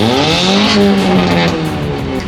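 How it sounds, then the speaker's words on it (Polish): Engines rumble steadily and loudly as cars drive slowly into a parking lot hosting a classic car meet in Szczecin's Łasztownia district, with no clear pauses. "Auta powoli wjeżdżają w stronę parkingu, na którym odbywa się spotkanie klasycznego Szczecina."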